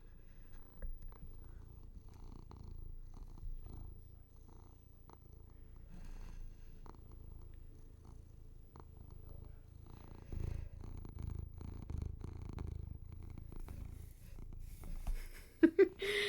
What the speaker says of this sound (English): Just some kitty ASMR for you guys.